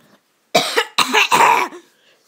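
Three harsh, chesty coughs in quick succession, close and loud, with no talking around them.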